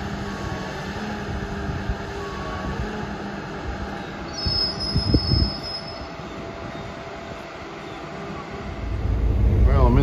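SEPTA Silverliner IV commuter train riding toward Philadelphia, heard from inside the car: steady rumble of wheels on rail with high wheel squeal, a brief louder clatter midway and the rumble swelling near the end.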